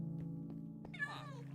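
A cat in a hardcore-mode video game gives a short, faint meow near the end, over a steady low in-game hum.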